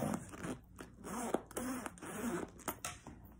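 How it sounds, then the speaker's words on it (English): A zipper on the back of a black baker boy cap slides smoothly in a few quiet, close passes of soft rasping, with brief handling noises between strokes. "As I mentioned, the zipper flows really smooth."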